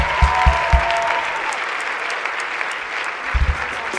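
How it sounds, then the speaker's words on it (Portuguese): A church congregation claps loudly and continuously, a thick crowd of hands close by, with a few heavier low thumps near the start and again toward the end. "Aplauda mais forte"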